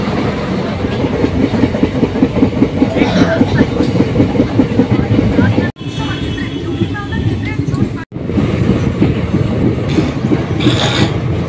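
A passenger train runs on rails near New Farakka station, its loud, close, steady rumble and rhythmic clickety-clack filling the recording with a couple of brief dropouts.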